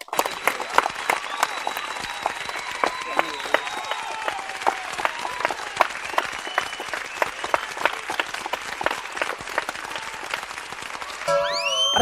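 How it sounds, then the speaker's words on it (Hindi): Sustained applause from an audience welcoming a member onto the stage at a network marketing event, dense, even clapping lasting several seconds, with a brief voice near the end. "जोरदार तालियों से स्वागत कीजिए"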